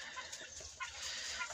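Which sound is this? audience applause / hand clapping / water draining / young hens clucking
young hens clucking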